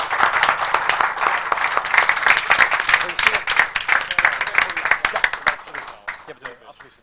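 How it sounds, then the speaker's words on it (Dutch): Office colleagues applaud a promotion to deputy director, a dense burst of clapping that carries on steadily for several seconds, then thins to a few scattered claps and fades. "Ik vind het alleszins een applaus waard"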